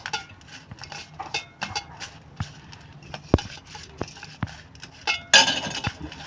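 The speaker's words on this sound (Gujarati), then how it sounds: "હવે આપણે બધું મિક્સ કરીશું." A spoon clinks and scrapes against a metal bowl while the spice filling for stuffed brinjal is mixed, with repeated short taps in an irregular rhythm, a sharp knock near the middle and a brighter clatter toward the end.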